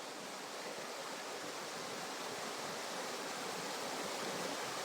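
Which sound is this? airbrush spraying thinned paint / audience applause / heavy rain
heavy rain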